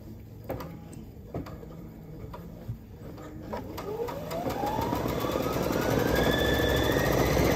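Newly bought embroidery machine starting up after its start button is pressed: a few clicks and knocks, then a steady mechanical whir rising in pitch and loudness as it gets going, close and alone without talk.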